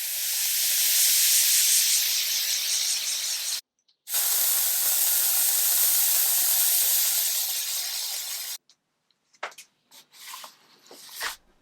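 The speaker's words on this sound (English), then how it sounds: "I used my steamer hoping that this would raise the grain and allow me to sand it" A handheld steamer hisses against dented veneered wood on a 1936 Art Deco drinks cabinet, in two long, steady bursts with a short break between them, then a few shorter sputtering puffs.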